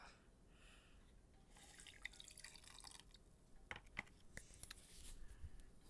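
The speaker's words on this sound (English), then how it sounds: "I think it's time to dump the water." Water poured out of a cup, a faint splash and trickle followed by scattered irregular drips and small splatters, quiet and close with no talk.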